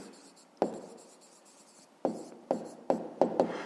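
A pen scratches out a math solution on paper, with a handful of distinct strokes and taps, close and quiet, the marks coming quicker toward the end.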